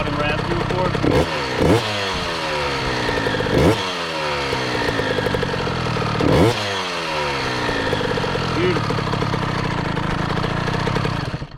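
A KTM two-stroke dirt bike engine idles with a raspy buzz and blips its throttle in several sharp revs, loud and close, with voices talking over parts of it.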